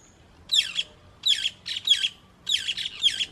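Small birds squawk in loud, harsh bursts, about five quick volleys over a few seconds, as they mob a toucan raiding their nest on a Costa Rica waterfall hike; the calls ring out close against a quiet background.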